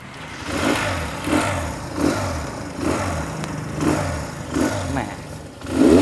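Motorcycle engine revving in repeated surges as a ride starts, each rise climbing and falling back in a steady rhythm about every second, loud and close, with a person talking over it.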